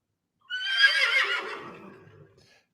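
A horse lets out a single loud, close whinny that rises sharply and then trails off into a fading, breathy flutter, heard on its own.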